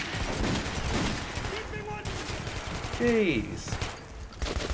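Bursts of AK rifle gunfire in the Metro 2033 video game, scattered through the clip amid game noise, with someone talking over parts of it.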